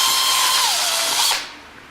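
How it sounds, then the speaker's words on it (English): A power drill with a 3/16 inch bit bores through wood while installing model railway turnouts, a loud steady whine that drops in pitch partway as the bit bites, then cuts off near the end. "Using a 3/16 inch drill bit, I drill a hole through the wood for the rod to pass."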